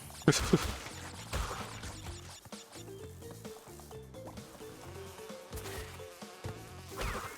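Insect-like buzzing of bees in the video game Crash Bandicoot 2, a steady droning hum running throughout beneath busy game music and effects, with a few louder bursts near the start.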